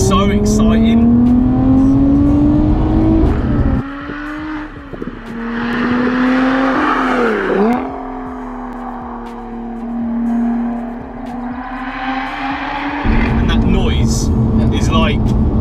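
A Lotus Evora 400 sports car engine drones loudly at first, drops back while someone talks over it, then surges again, its pitch rising and falling with the revs.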